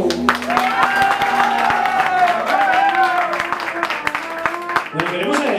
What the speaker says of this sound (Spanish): ¿será que mariachi se merece un aplauso?